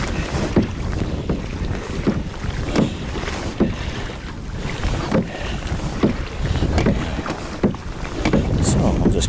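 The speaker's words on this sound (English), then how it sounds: "And I got a crosswind right now, so you can fine-tune your rudder so that you don't get blown by the crosswind." Wind buffets the microphone steadily while a kayak paddles along the coast, with rhythmic paddle strokes and water splashes repeating about every second beneath the gusty rush.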